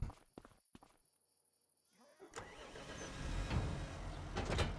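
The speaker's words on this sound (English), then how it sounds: "We'll need the front loader tractor again." A front loader tractor's engine cranks and starts in the Farming Simulator 25 video game, following a few clicks, then settles into a steady, rising mid-pitched rumble up close.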